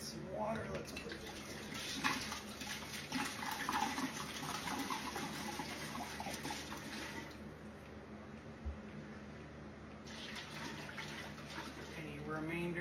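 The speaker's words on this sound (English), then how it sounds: "Now we're going to add some water." Water poured from a pot into tropical wine must in a brew bag, a steady rushing splash that runs for several seconds and then tapers off, with brief speech around it.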